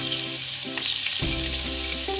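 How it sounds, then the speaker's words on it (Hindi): Chopped garlic hitting hot oil in a pan for street-style veg chowmein, a loud steady sizzle and crackle that runs through the whole moment, close and without any talk. "सबसे पहले हम लहसुन डालेंगे।"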